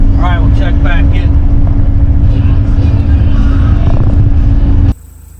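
A loader tracks in and breaks up dirt while filling a hole and grading a new parking area on rural land, its engine droning steadily and loud throughout, with a faint voice early on before the sound cuts off abruptly near the end.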